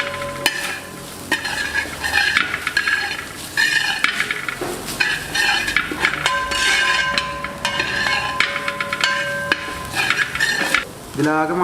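Shark thoran being stirred in a frying pan, with a steady sizzle beneath repeated scraping and clinking of a metal spatula against the pan, fairly loud and close, with no talking.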